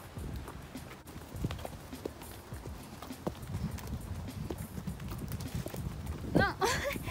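Horses' hooves clip-clopping at a walk around stables, a fairly faint, irregular run of soft hoof strikes with a brief whinny-like sound near the end.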